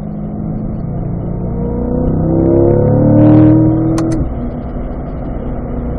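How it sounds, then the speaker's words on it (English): Race car accelerating uphill on a circuit at a Michelin Ron Fellows driving school, engine note climbing steadily under full throttle and then easing off, with two sharp clicks near the end. "Then we can squeeze onto that throttle."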